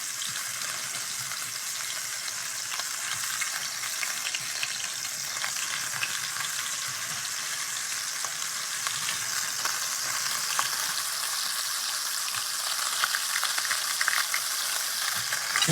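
Short ribs searing in hot oil in a pan, a dense, steady, loud crackling sizzle that holds unbroken throughout with no voices.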